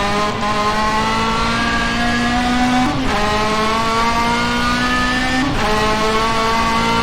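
A Norma race car at a hillclimb, its engine holding a loud, sustained high-revving whine close by, with two brief dips where the pitch drops and climbs again during gear changes.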